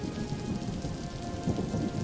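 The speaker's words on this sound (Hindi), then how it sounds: "पवन मूसलाधार बारिश को देखकर बहुत परेशान हो जाता है।" Heavy downpour in a cartoon story, a steady dense hiss of rain pattering on surfaces, fairly faint and continuous with no voices.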